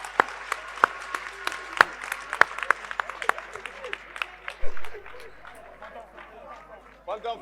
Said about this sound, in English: A resounding round of applause to celebrate.